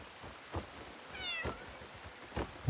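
Cats meowing in the Crimson Desert video game, three or four short, fairly faint meows spaced apart over quiet background ambience.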